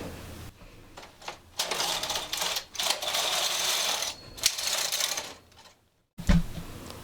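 A punch card knitting machine carriage pushed across the needle bed while knitting Fair Isle, a clattering mechanical rattle in long passes with short pauses between rows, near and fairly loud.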